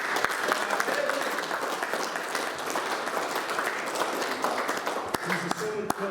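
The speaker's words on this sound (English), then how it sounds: "can we have a big round of applause for this man?" An audience at a surf club prizegiving in the Tokoroa War Memorial clubrooms breaks into sustained applause, dense clapping from many hands that holds loud and even with a few sharper claps standing out.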